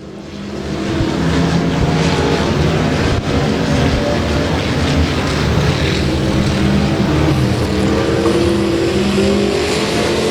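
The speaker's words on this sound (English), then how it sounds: "the number 5, Dan Whitehill, solid third as they come around, put the one lap into the books" Race cars lap the oval at Rose Bowl Speedway, a loud continuous engine roar that swells in after the first second and holds steady as the field passes.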